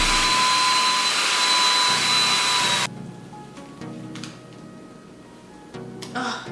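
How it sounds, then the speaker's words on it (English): Blow dryer drying hairspray on the lace of a deep wave HD lace wig, a loud steady whoosh with a faint whine that stops abruptly after about three seconds, followed by quiet handling noises. "I also like to take the blow dryer if I don't take too long to pop it on cool and on warm back and forth"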